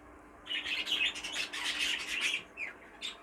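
A Fife canary kept in a bird room gives quick, bright chirps and twittering calls. They come in a busy run of several notes over a couple of seconds, followed by a few isolated tweets, close by and clear against quiet room tone.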